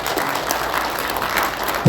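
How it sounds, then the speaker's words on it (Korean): A crowd at a Korea Press Center gathering applauds to welcome Kim Kyung-jae, president of the Korea Freedom Federation, with steady, full clapping throughout and a brief louder thump at the end. "큰 박수로 맞이해 주십시오."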